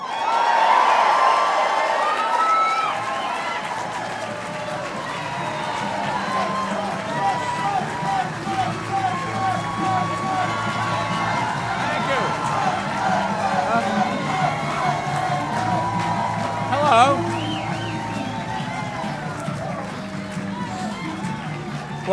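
A large crowd at a Mike Bloomberg campaign rally in Nashville cheers and shouts continuously for about twenty seconds, with a brief louder swell near the end.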